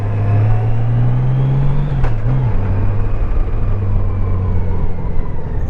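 City traffic rolls past a cyclist riding at night, a steady loud engine drone and road rumble with one vehicle's pitch shifting briefly as it goes by, no voices.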